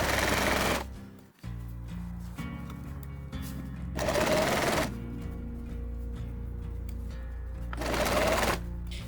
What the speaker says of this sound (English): I think I might hem it with the sewing machine